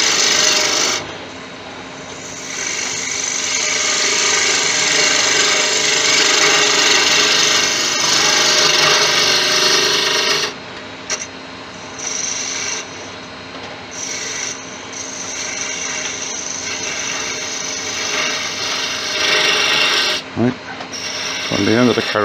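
Large driftwood piece turning on a wood lathe, a detail gouge cutting with a continuous loud rasping, scraping hiss that briefly breaks off several times as the tool lifts from the spinning wood.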